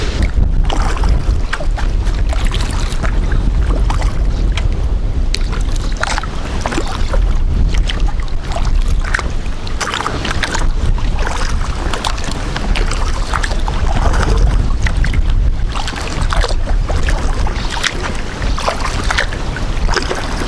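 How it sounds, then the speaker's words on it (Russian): Strong wind buffets a kayak on the Desna river in a steady, roaring rush over the microphone, with water wash underneath, continuous and loud throughout. "Да блин, ветрюган такой, что мама не горюй."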